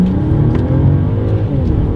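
A 2023 Mercedes S500 accelerating hard in sport and manual-shift mode, a steady, subdued engine drone and road noise heard from inside the quiet cabin, with no talking.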